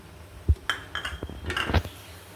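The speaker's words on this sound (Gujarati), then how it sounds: "આ રીતે આપણે થોડી વાર હલાવવાનું, આ રીતે હલાવતા રહેવાનું" A spoon knocks and scrapes against a metal pot while sugar is stirred into milky vermicelli kheer, giving a few sharp clinks and softer scraping strokes close by.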